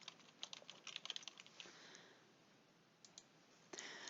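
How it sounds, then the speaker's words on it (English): Computer keyboard typing of a search term, a quick burst of key clicks, a pause, then another short run of keystrokes, close and clear with no talking. "I'm going to type commencement in"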